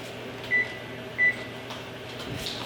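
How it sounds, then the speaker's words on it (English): An electronic oven panel gives two short, clear beeps while it is set to preheat to 350, followed by faint kitchen clatter and a low background hum. "I'm going to preheat the oven"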